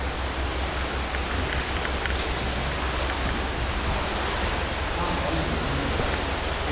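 Steady broadband rush of a river flowing through an underground brick culvert beneath Halifax, a continuous loud wash that fills the enclosed space without pause.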